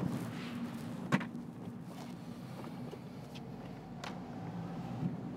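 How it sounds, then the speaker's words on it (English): Road and wind noise fills the cabin of a Mazda MX-5 convertible with the top up on a twisty mountain road, a steady low rumble and hiss with a couple of faint knocks, no talk. "Being a convertible, obviously you get some road and wind noise inside the vehicle, even with the top up."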